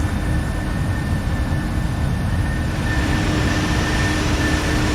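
Steady, dense cabin drone of a Boeing 737-800 in the FSX flight simulator, a constant low roar with a faint high tonal whine running throughout at an even, moderately loud level; no voices.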